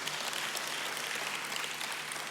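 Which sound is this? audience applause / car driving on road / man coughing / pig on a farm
audience applause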